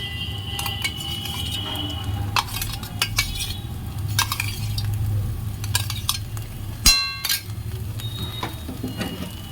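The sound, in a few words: stirring mashed fried shrimp and onion in a pan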